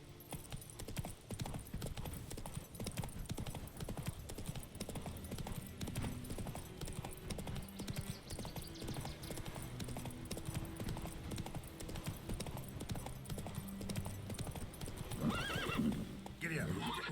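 Roach, the horse in Witcher 3, trots with a steady clip-clop of hooves and neighs, accompanied by game ambience and brief spoken commands.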